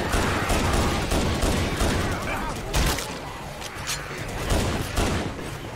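A minigun firing in the zombie shooter Left 4 Dead 2, a dense, continuous roar of rapid gunfire with a few heavier thumps, loud and sustained throughout.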